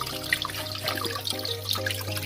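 Water trickles and splashes steadily from a small spring on a farm, close by, with a low constant hum underneath and scattered bright droplet sounds.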